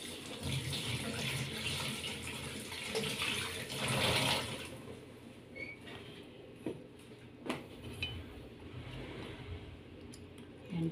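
Chili peppers rinsed under a running kitchen tap, a steady splashing stream close by for several seconds, then quieter drips and small clinks as the water stops.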